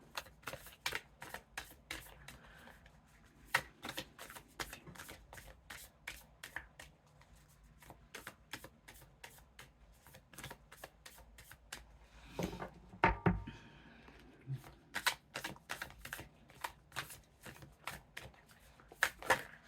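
Oracle cards shuffled by hand in a rapid, steady run of crisp riffling snaps and flicks, close and continuous, with a denser flurry partway through.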